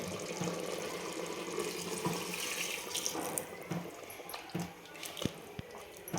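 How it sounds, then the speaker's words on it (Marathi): Hot water pours steadily into a pot of black masala mutton made with freshly ground spices, a continuous close splashing and gurgling stream with a few small knocks and no talking. "यावेळेला आपल्याला याच्यामध्ये गरम पाणी सोडून द्यायचं आहे"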